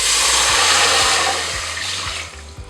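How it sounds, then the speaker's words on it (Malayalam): Water pours into a hot pan of freshly fried red cowpeas with a loud, steady rushing hiss that eases slightly toward the end, over a low hum. "ഇനി നമ്മൾ ചൂടോടെ തന്നെ ഇതിലേക്ക് വെള്ളം ഒഴിച്ചു കൊടുക്കുകയാണേ."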